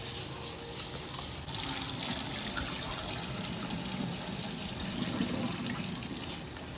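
Three cups of rice are washed for biryani under running tap water, a loud continuous gushing and splashing that grows fuller after the first moment and holds steady throughout.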